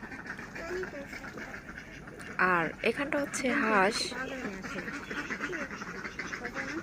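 Ducks on a village river by a paved bathing ghat give a short burst of loud, nasal quacks in the middle. Someone talks over the scene before and after the calls.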